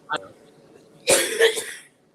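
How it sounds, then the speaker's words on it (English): A woman who has had a cough for three weeks coughs once briefly, then gives a harsher, longer cough with a throat-clearing rasp, heard nearby as if over a call. "she's been coughing for 3 weeks"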